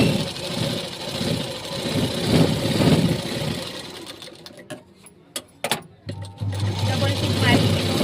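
A sewing machine running a double line of stitches to join cloth pieces, a steady fast whirring chatter under a voice, pausing briefly before a lower motor hum starts again.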